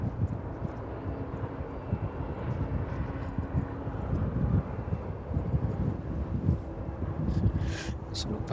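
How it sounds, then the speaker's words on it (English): Steady, low rumbling wind buffeting outdoor camera equipment at East Midlands Airport in the evening, continuous and close, with faint sharper noises near the end. "Just the equipment taking the brunt of that wind this evening."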